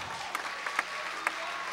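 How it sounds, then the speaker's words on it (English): Congregation at a church service claps hands, a soft scattered patter with a few sharper individual claps standing out at irregular moments over a short stretch. "clap your hands."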